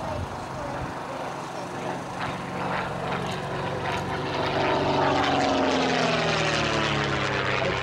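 An Italian World War II propeller fighter flies over an airshow at Little Gransden, its engine drone building steadily and passing loud overhead with a sweeping pitch change.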